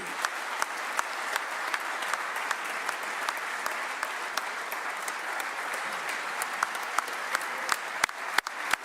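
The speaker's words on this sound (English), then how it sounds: "So guys started standing up here to clap" Steady, sustained applause from a large audience standing up to clap at a State of the State address fills the whole stretch, dense and continuous with sharper individual claps popping out.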